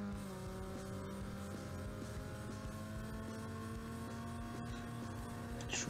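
A car engine droning steadily in the racing video game Need for Speed Underground 2, with a sustained, even hum and faint higher overtones. The sound runs continuously throughout, with no talking over it.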